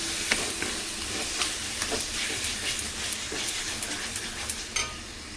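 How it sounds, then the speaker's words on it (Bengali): A spiced masala with kasuri methi and sour yogurt sautés in a pan, a steady soft sizzle broken by repeated scrapes and clicks of a spoon stirring, close and fairly even throughout. "তো এখানে মশলাটা কষাচ্ছি, কাসুরি মেথিটা দিয়ে দিলাম, টক দইটা দিয়ে দিয়েছি।"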